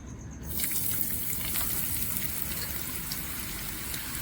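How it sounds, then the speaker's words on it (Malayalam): Jackfruit slices drop into hot coconut oil with turmeric, setting off a sudden, steady, dense sizzling hiss that continues evenly to the end. "വെളിച്ചെണ്ണ നല്ല ചൂടായ ഇതിലേക്ക് നമുക്ക് ചക്ക ഇട്ട് കൊടുക്കാം."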